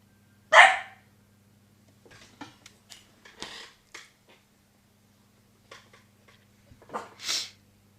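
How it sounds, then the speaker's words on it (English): A pet dog named Fluffy barks near a window indoors, giving a loud single bark followed by scattered quieter yaps and a final short burst of two barks, with a low steady hum underneath. "That sound was my dog, Fluffy."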